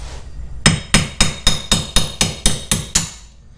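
A ball peen hammer taps a C5 Corvette rear wheel hub nine times in a steady rhythm, each strike a sharp, close metallic ping with a short ring.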